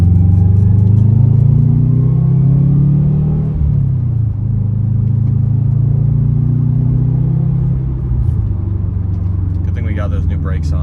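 Subaru WRX fitted with a Grimmspeed cold air intake accelerating hard, a loud, close, steady low engine drone with a rising pull that eases briefly midway, with no talking.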